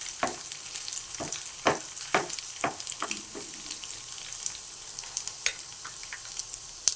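Cumin, mustard seeds, chana dal and urad dal fry in hot oil for sambar, sharp scattered pops and crackles over a soft steady hiss, close and without speech.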